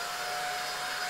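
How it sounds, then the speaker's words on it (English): A cartoon supersonic dryer blows with a steady, loud whooshing roar and a thin whine, unbroken from start to end with no voices. "There's a supersonic dryer."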